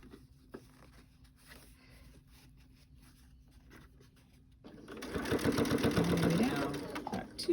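A sewing machine stitches quilt binding near a corner, starting after a quiet stretch with faint handling and a brief voice, then running in a fast, loud mechanical burr for a couple of seconds before slowing.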